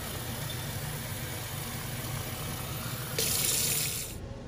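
Kitchen tap running into a measuring cup for two cups of water, a steady faint rush that brightens and grows louder near the end before cutting off, no talking.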